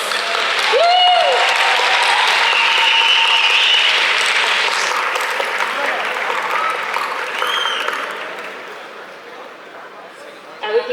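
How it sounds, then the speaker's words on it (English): A festival crowd at the IFFK film festival breaks into loud, sustained applause lasting around nine seconds, with a few whoops and cheers rising above it before it tapers off. "Let's give them another round of applause."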